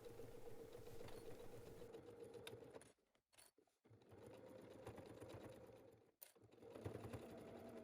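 A sewing machine stitches the seam of a MOND shopper bag, whirring steadily in close, even runs with two short pauses mid-way before the stitching resumes.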